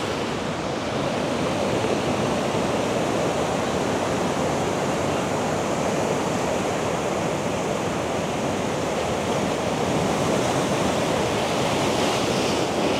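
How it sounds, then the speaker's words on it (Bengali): Big sea waves rolling in at high tide on a beach on the Cox's Bazar to Teknaf coast in Bangladesh, a continuous loud roar of surf with wind noise and no voices. "এই ঢেউ আসতেছে বড় বড়"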